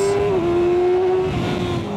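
A 2024 Kawasaki ZX6R motorcycle engine runs with a smooth, steady, close drone and a slight pitch dip early on, with no voices.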